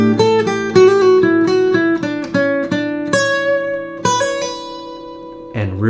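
A guitar plays a full lick of quick picked notes with hammer-ons, then slows into sustained notes shaken with heavy vibrato. The notes ring close and clear with no talking.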